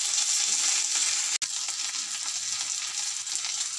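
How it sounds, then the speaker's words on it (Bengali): Ginger-garlic paste fries with onions in a pan, giving a loud, steady hissing sizzle throughout, broken once by a brief sharp click, with no voices. "পেঁয়াজটা ভাজা হয়ে গেলে আমি আদা রসুন পেস্ট দিয়ে দেব"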